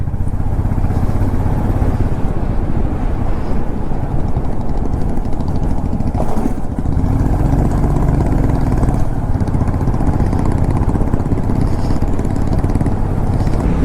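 A motorcycle rides along the Yamuna Expressway toward Delhi, its engine a steady, loud drone with wind roar that holds throughout, with no speech heard.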